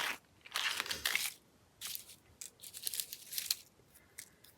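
Paper pages being cut and torn for a handmade tag book, crisp bursts of rustling, snipping and crinkling in short irregular clusters, close and fairly quiet, with no talk.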